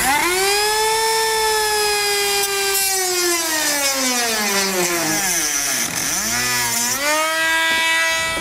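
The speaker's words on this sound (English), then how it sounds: "I'm going to go ahead and use a rotary tool to cut out this small section" A rotary tool cuts a small section out of the plastic bumper fascia of a 2018 Mercedes-Benz, its high tonal whine holding steady and then dipping and recovering in pitch as the bit loads in the material.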